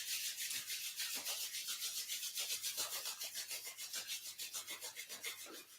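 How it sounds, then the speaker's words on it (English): Palms rubbed briskly together during a yin yoga session, a soft rhythmic swishing of skin on skin repeating evenly for several seconds, close and gentle, with no voices. "And start rubbing your hands here."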